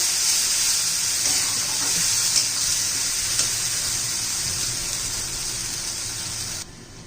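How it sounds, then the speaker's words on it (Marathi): Tomatoes and black chana masala sauté in hot oil in a pan, a steady bright sizzle with occasional small pops running evenly throughout, close up and alone, cutting off just before the end. "छान असं तेल सुटेपर्यंत आपण आता परतून घेणार आहोत"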